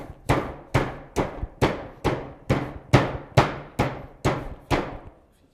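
Eleven steady hammer blows smash a hard comet-model mixture at an even pace, each a heavy, close thud with a short ringing decay.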